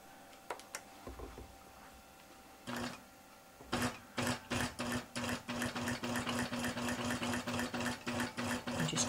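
A Helen's iQ sewing machine stitches an applique with a rapid, rhythmic run of needle clicks after a few isolated taps and brief starts, close and fairly quiet.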